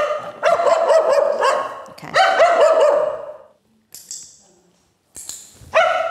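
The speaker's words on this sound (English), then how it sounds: "we're rewarding her for the barking" A dog barks in two long, loud bursts of rapid repeated barks close by, followed by quieter yips and short whines, with brief talk in between.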